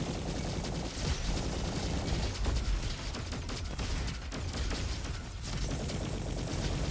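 A splasher rifle fires during a Roboquest fight, dense continuous bursts of loud gunfire with mechanical clatter filling the whole stretch, barely easing between volleys.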